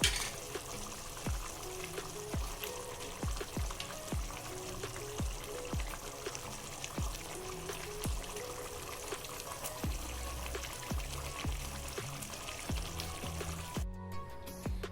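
Afghani mutton chaap pieces frying and sizzling in a thick gravy, a steady close crackle with intermittent sharp spatters and clinks of a utensil throughout.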